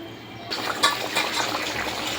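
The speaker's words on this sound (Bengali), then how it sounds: "তো জল দিয়ে দিলাম" Water splashes into a cooking pan while fish curry is being made, a soft pouring and trickling that starts abruptly and runs steadily for about two seconds.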